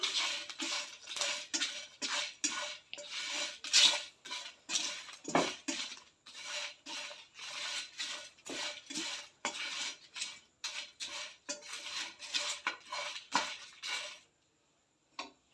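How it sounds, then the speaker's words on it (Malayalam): Spoon repeatedly scraping and clinking against a bowl while roasted, crushed pappadam is mixed into a homemade chammanthi, steady close stirring strokes with no voices, ending in a brief quiet pause. "അതിൽ ഒന്ന് പൊടിച്ചിട്ട് നമ്മൾ ഇട്ട് കൊടുത്തിട്ടുണ്ട്. നമുക്കൊന്ന് മിക്സ് ചെയ്ത് കൊടുക്കാം."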